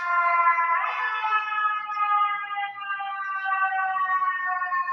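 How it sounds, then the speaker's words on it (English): Emergency vehicle sirens wail steadily throughout, a continuous rising and falling tone that stays moderately loud as they pass on a city street, with no talking heard. "We'll let the sirens pass a little bit."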